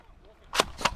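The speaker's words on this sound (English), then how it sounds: "That was a shot." Two sharp, close pops of a Nerf blaster firing during an outdoor Nerf game, spaced about a quarter second apart, each with a quick snappy crack over quiet background.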